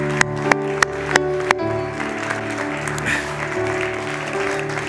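A church congregation on its feet applauding during a service: a few sharp claps open, then a steady, close wash of clapping that continues evenly to the end.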